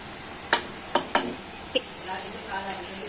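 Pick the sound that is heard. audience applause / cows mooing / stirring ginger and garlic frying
stirring ginger and garlic frying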